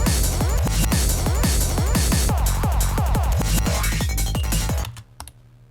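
A rapid, stuttering glitched drum break with repeated chopped retriggered hits and pitch-sweeping retriggers, dense and loud, cutting off abruptly near the end.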